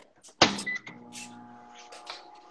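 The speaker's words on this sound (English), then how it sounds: "So mine is in the microwave for... I'm only doing 15 seconds." A microwave oven heating butter for a mug cake starts with a sharp clunk, then settles into a steady, low humming drone, fairly close and moderately loud.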